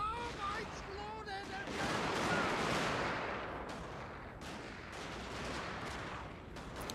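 Infantry volleys in the video game Shogun 2: Fall of the Samurai, a dense rattle of musket fire swelling and then tapering, with scattered sharper reports and someone talking at the start.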